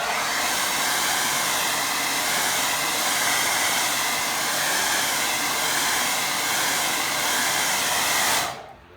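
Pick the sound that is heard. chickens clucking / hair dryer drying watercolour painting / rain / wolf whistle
hair dryer drying watercolour painting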